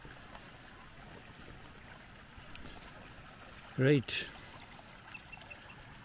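Rainwater runs from a culvert into a newly formed temporary pond below an upper swale, a steady low trickling wash heard faintly throughout, with a brief spoken word over it.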